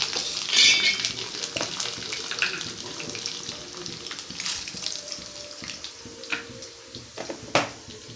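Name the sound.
sautéing in pan until golden brown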